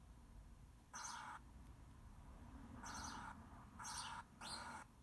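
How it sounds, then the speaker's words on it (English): Quiet bird calls come in four short bursts of chirping over faint background hiss, each lasting under half a second. "Here's some of the bird sounds."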